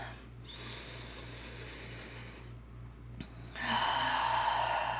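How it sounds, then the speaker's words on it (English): A single deep breath drawn in slowly and let out, close and soft against a quiet low hum, with no talking. "Taking a deep breath here."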